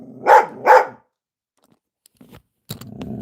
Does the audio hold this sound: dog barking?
yes